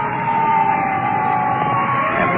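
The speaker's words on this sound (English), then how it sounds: "Ambulance taking off." An ambulance siren wails steadily as the ambulance pulls away from a crime scene, its tone loud and continuous with a traffic rumble underneath.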